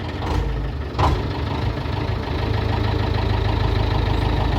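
A David Brown 1490 tractor's diesel engine runs at the Hodder Valley Show as it pulls away. It makes a loud, steady low throb with a couple of brief surges near the start and no talk.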